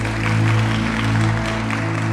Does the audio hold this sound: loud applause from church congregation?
yes